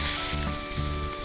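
Crushed garlic and chilli hit hot oil in a pan, giving a loud, continuous sizzle over a faint steady hum, brief and without voices.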